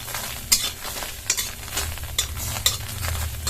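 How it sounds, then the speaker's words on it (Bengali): Whole spices dry-fry in a wok with a soft, continuous sizzle broken by sharp, evenly spaced crackles and pops, close and fairly quiet. "দেখুন এরকম চটচট আওয়াজ হচ্ছে, এবার নামিয়ে নেব"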